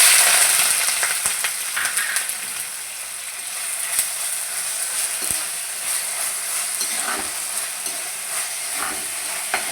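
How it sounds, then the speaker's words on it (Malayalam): Crushed onion hits hot coconut oil with popped mustard seeds in a clay pot, giving a bright, steady close-up sizzle with occasional stirring scrapes and small clicks, no voices. "കടുക് പൊട്ടി നമുക്കിനി ഉള്ളി ചതച്ചത് ഇട്ട് കൊടുക്കാം."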